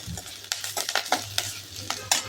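Onions sautéing in a pan for soya fried rice, with a spatula scraping and stirring in several distinct strokes over a steady, soft sizzle.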